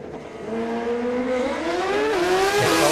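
A BMW drag racing motorcycle blasts down the strip, its engine wailing loud and close as it climbs steadily in pitch through the gears, with a brief shift dip before screaming higher again.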